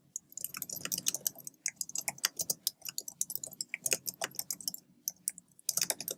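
Rapid, irregular clicking of a computer keyboard as a sentence is typed out, close and fairly quiet, with short bursts of keystrokes and brief pauses and no voice.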